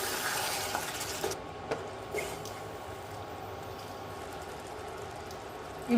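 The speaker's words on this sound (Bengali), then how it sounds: "ঢাকাটা খুলে আবার একবার নেড়ে নেব।" Chicken curry being stirred in a pan after the lid comes off, a steady low sizzle with a few soft scraping stirs near the start, moderately quiet and alone.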